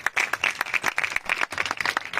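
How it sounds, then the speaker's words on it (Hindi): An audience at a business success-story event bursts into steady, dense applause, many hands clapping together in a lively, continuous patter that is close and fairly loud, with no speech. "तो जोरदार तालियां हो जाए इनके लिए"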